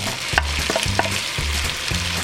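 Beef and bacon frying in a pot as they are stirred into onions and carrots: a loud, steady sizzle broken by several scraping stirs and soft knocks of a spoon against the pan.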